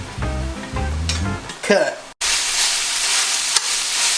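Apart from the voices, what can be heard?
meat sizzling while frying for street tacos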